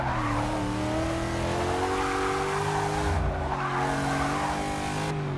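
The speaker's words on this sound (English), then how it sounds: "I got a bit of a drift going." Tires squeal as a race car drifts through a corner in the Forza Motorsport 6 racing game during an Ultima GTR Cup race, a continuous screech riding over the steady engine drone and rising and falling in waves.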